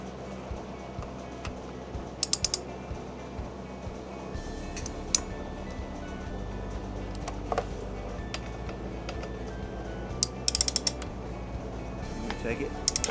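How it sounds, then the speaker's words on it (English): Bolts tightened into aluminum on a KTM 450 radiator guard, with a ratchet or tool giving quick clusters of small metallic clicks and ticks, close but faint, over a low engine-like hum with people talking. "you're tightening those bolts into aluminum"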